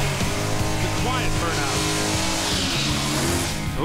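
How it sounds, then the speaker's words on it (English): A drag racing car does a burnout, its engine roaring steadily with tire squeal and skidding. The sound is loud and continuous, and people talk over it. "burnout."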